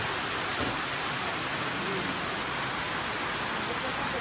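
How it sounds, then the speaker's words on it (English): Heavy rain pours down outside a farm barn, a loud continuous wash of hiss and patter that never lets up. "The rains have arrived."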